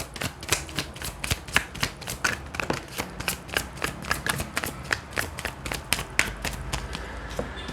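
Tarot cards being shuffled by hand, a rapid, even run of crisp riffling snaps repeating steadily for several seconds, close and fairly loud with no talk.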